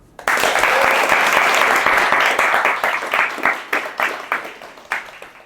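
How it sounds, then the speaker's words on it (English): An audience at a talk in New York City bursts into loud, dense applause that holds steady, then thins into scattered individual claps before fading out. "introduce Nitesh with a big round of applause"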